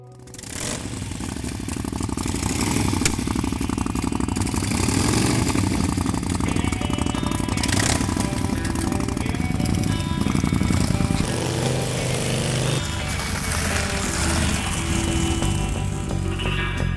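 A custom vintage-style Indian Scout motorcycle engine runs continuously at close range, a loud steady rumble with a slight flutter and mechanical clatter over about seventeen seconds.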